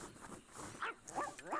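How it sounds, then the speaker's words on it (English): Several pet dogs bark and yip in short bursts indoors, close and fairly loud, over a low background murmur. "It's just all of my dogs."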